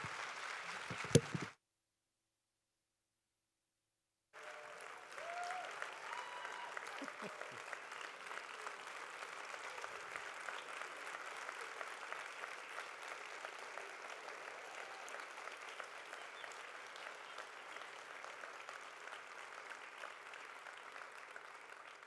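Audience applauding a CEO's introduction at a corporate event in a large hall, a long, even spread of clapping that rises after a brief silence and carries on steadily.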